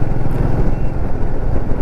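Motorcycle cruising along a road, a continuous loud engine drone mixed with wind rumble, heard up close from the rider's position.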